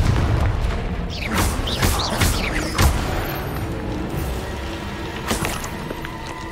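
A Confringo spell blast explodes in Hogwarts Legacy: a loud, close booming burst with sharp cracks and crashing debris over several seconds, fading into a rumbling tail.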